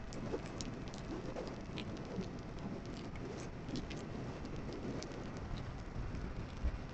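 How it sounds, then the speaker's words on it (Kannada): Light drizzling rain near the Tungabhadra dam at Hosapete, a steady, even hiss of fine drops that carries on without a break for the whole stretch, with no voices. "ಜಿನಿ ಮಳೆ ಎತ್ಕೊಂಡ್ಬಿಟ್ಟೈತೆ"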